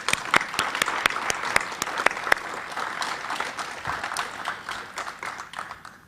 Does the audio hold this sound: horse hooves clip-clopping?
no